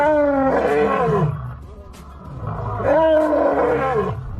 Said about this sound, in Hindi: क्योंकि एक असली शेर की आवाज रियल लाइफ में कुछ ऐसी होती है।